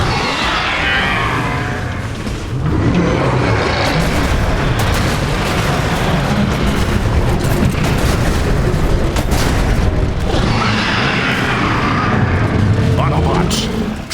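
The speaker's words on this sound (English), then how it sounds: "Deploying healing charges! Just be near it when they detonate!" Healing charges detonate in Transformers: War for Cybertron, a loud, sustained barrage of booming blasts and rumbling bursts that fills the scene, with game voices talking over the din.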